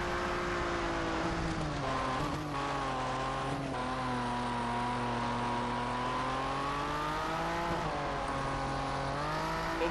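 A buggy's engine drones and revs steadily as it races around a dirt track in the video game Colin McRae Dirt, loud and continuous, its pitch rising and falling with throttle shifts, with occasional tyre noise and no talking.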